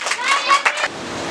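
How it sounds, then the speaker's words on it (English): Children clapping for a role-play scene in a classroom, with quick bursts of hand claps and excited young voices before the sound falls away. "A huge round of applause for this scene"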